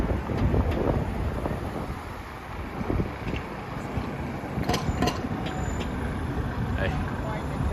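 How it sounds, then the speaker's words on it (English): Wind buffets the microphone in a steady low rumble throughout an evening street walk in Manhattan, New York City, with gusts swelling and easing and faint background noise underneath. "It's kind of windy, but who knows?"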